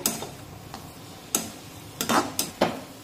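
A spoon scrapes and taps against a pan while spices are stirred and sautéed, a handful of short, sharp metallic clinks spaced irregularly over a quiet background.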